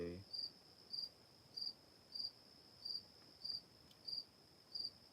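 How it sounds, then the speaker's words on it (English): A single cricket chirping in steady evenly spaced bursts, about eight trills in a row, clear against a quiet background. "I don't know what frequency that the cricket is operating off of, like with his legs, what frequency it gives off on the legs"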